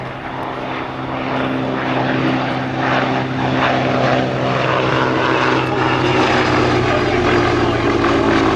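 A 1934 Gloster Gladiator biplane fighter at the Shuttleworth vintage airshow gives a loud, steady piston propeller drone that holds evenly as it flies past, with no voices over it.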